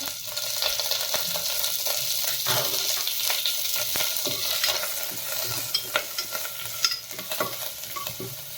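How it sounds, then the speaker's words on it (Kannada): Curry leaves, garlic, mustard seeds and cumin fry together in a spoonful of hot oil, a dense steady sizzle with crackling pops and spoon stirring throughout, close and continuous with no talk. "ಇದು ಕರಿಬೇವು, ಬೆಳ್ಳುಳ್ಳಿ, ಸಾಸಿವೆ, ಜೀರಿಗೆ ಎಲ್ಲ ಒಟ್ಟಿಗೆ ಹಾಕೊಂಡ್ಬಿಡ್ತೇನೆ ನೋಡಿ."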